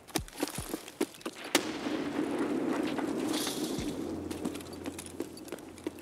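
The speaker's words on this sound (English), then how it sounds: "I'm just gonna throw a grenade" A grenade detonating in the video game Escape from Tarkov, a sharp blast followed by a rumbling, crackling tail, amid scattered sharp gunshot-like cracks and clicks, with no voices.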